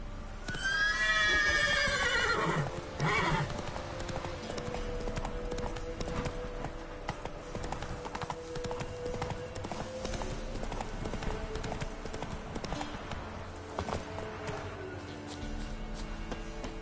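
Roach, the horse in The Witcher 3, gallops with rapid rhythmic hoofbeats that start with a loud whinnying neigh and then run steadily close by under game music.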